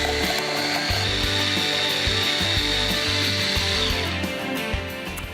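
A food processor whizzes basil, garlic cloves and salt with a loud, continuous motor whir and grinding blades, steady throughout and close by, with no speech.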